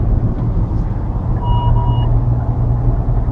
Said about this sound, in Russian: А теперь сработала система контроля за мертвыми зонами справа.